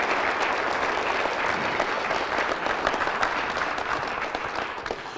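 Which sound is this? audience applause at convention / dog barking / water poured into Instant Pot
audience applause at convention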